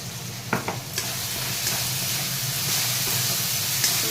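A ground onion, garlic and ginger paste with turmeric and salt sizzles and hisses loudly in a hot pan while being stirred, with a few sharp utensil knocks early on over a constant frying roar.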